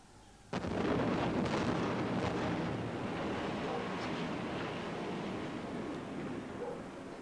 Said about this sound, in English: chosen to blow up a block of flats in the middle of a housing estate